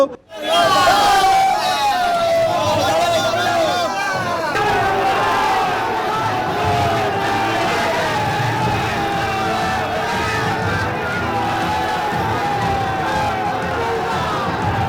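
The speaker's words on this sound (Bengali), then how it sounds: "তৃণমূল বিজেপি স্লোগান যুদ্ধে উত্তপ্ত পরিস্থিতি" Trinamool Congress and BJP supporters outside a house in a heated slogan battle, a dense crowd shouting and chanting rival political slogans such as 'Joy Bangla', loud and continuous with overlapping voices throughout.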